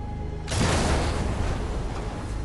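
A torpedo strikes a troop transport ship and explodes, a sudden loud boom that rolls into a sustained rumbling roar of debris and water, trailing off slowly.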